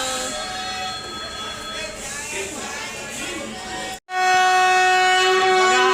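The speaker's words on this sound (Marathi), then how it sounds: "आमची ट्रेन चालली आहे" A passenger train at Jalgaon station rumbles along with loud tonal wheel squeal and horn-like hum, brief cut near the end, then a louder steady drone; no speech is evident.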